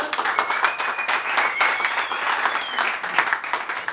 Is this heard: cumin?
no